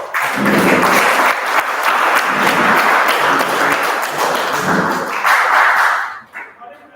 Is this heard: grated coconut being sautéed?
no